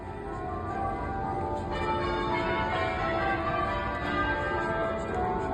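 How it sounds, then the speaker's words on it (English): Westminster Abbey bells ring out over the Field of Remembrance as the Queen departs, a steady, continuous wash of pealing at moderate distance with no talk. "As the Queen left the Field of Remembrance and the Abbey bells rang out"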